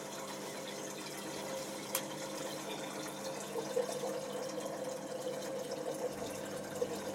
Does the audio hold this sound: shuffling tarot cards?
no